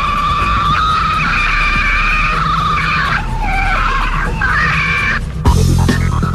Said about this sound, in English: Police headquarters was able to record what is said to be the call of a Sasquatch.